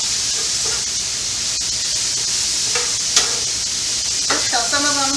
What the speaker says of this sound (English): you don't need the veggies to stir fry real long